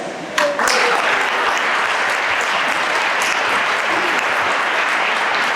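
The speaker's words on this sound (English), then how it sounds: "can I please have a round of applause for all seafarers out there" Sustained applause from an audience at a Day of the Seafarer event in South Africa, starting abruptly after a brief moment and continuing as a dense, even clatter of many hands, loud and close.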